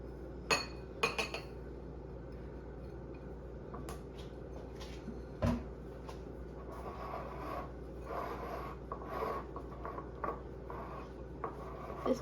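Melted butter stirred with fresh parsley and garlic powder in a bowl, giving soft repeated clinks and scrapes of a utensil against the dish, faint and intermittent over a quiet kitchen background.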